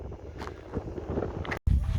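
Wind buffets an outdoor microphone at a human-powered speed challenge event with a headwind, a steady rough rumble with gusts across the whole stretch.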